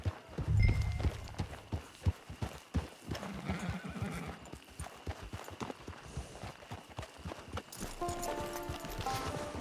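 Horse hooves clip-clop steadily in Red Dead Online, a close, rhythmic run of hoofbeats with a whinny early on, ambient game sounds and light background music underneath.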